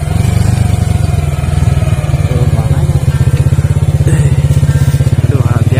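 A Honda Supra Fit motorcycle engine labors up a steep mountain trail to a hilltop coffee farm. Its loud, close, steadily pulsing exhaust note runs throughout without a break.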